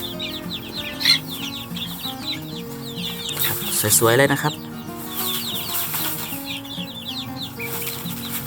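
Betong chickens cluck and chirp steadily in the background at a farm at feeding time while someone talks briefly, with one louder squawk rising midway.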